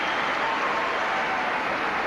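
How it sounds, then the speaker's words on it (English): A tennis crowd applauds Roger Federer's second ATP Tour title win in Milan, a steady dense wash of clapping from many hands, loud and unbroken throughout. "Coach Peter Lundgren applauds along with everybody"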